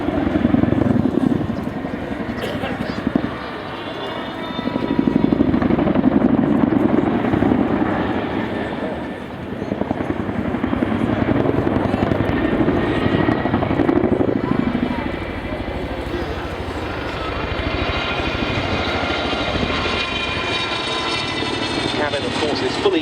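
A Chinook helicopter flies overhead with three external loads slung beneath it, giving a loud, steady rotor and engine roar that swells and dips slightly and carries on throughout, with someone talking over it.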